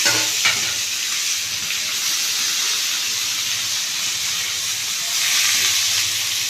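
Onions and chillies frying in hot oil for a raw plantain stir-fry, a loud, continuous sizzle and hiss that holds steady throughout and swells slightly near the end, with no talking.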